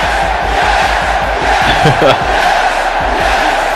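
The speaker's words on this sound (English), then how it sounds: "This hometown crowd has come to life." A hometown wrestling arena crowd roars steadily as a wrestler makes his entrance, a dense wash of cheers and shouts with a few louder calls rising out of the din.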